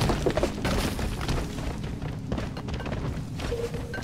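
A loud, sustained explosion in the video game Deep Rock Galactic, a dense booming roar with rumbling low end that fades slightly across four seconds, no talk over it.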